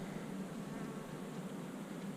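A steady, dense buzzing of many honey bees at a hive fills the air, a constant low drone without pauses, heard fairly close.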